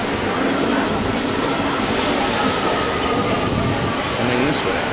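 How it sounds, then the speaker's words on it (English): A subway train pulls into a station in Italy, a loud continuous roar with high metallic wheel squeal running throughout, sustained and close. "This is a subway train coming in."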